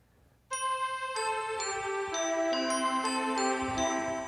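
A Lowrey home organ plays its 8-foot strings voice with sustain, sounding a rich sustained chord that enters sharply and shifts through several held note changes, bright and close with no talk.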